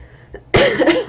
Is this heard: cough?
yes